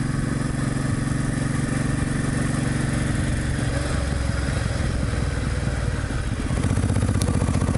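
A motorcycle engine idles steadily at a parking spot by a shopping centre, a loud close throbbing putter that runs unbroken and grows slightly louder near the end.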